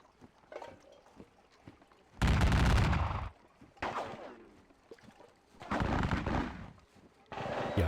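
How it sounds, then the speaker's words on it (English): Skirmishers fire musket shots in a Napoleonic strategy game set during the Leipzig campaign: several loud, crackling bursts of volley fire, each about a second long, separated by quieter gaps with faint distant popping. "our skirmishers are just taking some pot shots as these guys come in"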